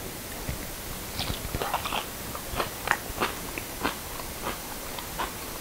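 Close, crisp bites and crunchy chewing of a raw wild ramp (wild leek), a run of sharp crunches at an uneven rhythm with no talking.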